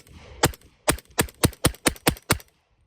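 Eight sharp, loud rifle shots fired at a steady pace with short gaps between them, from a soft-shooting rifle with a tuned buffer system firing subsonic ammunition. Each report is close and punchy with a brief decay.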